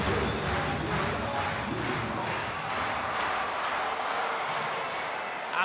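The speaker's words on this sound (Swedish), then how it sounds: "då är det klang och jubel föreställning i hemmaborgen för HV71" Home crowd at an HV71 ice hockey game in their arena roaring and cheering after a goal against Oskarshamn, a dense, sustained wall of voices with rhythmic chanting pulses holding steady throughout.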